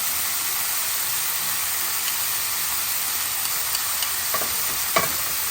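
Minced garlic sauce sizzles in a hot pan for pancit, a loud, steady frying hiss with a couple of soft utensil scrapes near the end and no talking.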